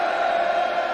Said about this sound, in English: Crowd in good voice here